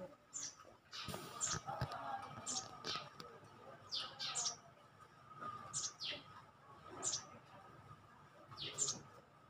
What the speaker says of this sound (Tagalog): pakinggan niyo yung huni ng inakay